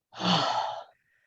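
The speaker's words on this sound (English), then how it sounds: "Oh, lots of yawns." A person yawns once during a breathing and self-acceptance exercise, a single breathy, sighing exhalation lasting under a second, close and fairly soft, with no talking.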